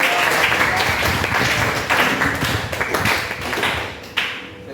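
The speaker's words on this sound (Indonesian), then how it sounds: "kita beri tepuk tangan untuk kelompok yang" A classroom of students claps for a group that has just finished presenting, a dense, close patter of hands with some sharper taps and a bit of murmur mixed in, steady throughout.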